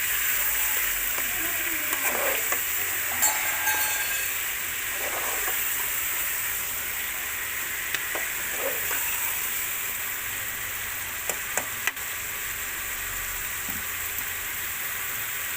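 Tomato and onion paste sizzles in a pan for a black pepper chicken karahi, a steady, loud hiss of frying with occasional soft stirring clinks and no talking.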